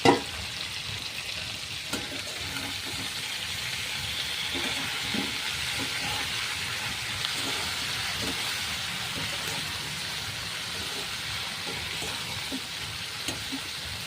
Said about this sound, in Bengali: মাছটা ভাজা হয়ে গেছে। আমি বেশি ভাজবো না, ঝোলে দেওয়ার জন্য একটু কম ভাজবো